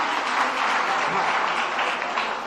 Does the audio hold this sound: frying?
no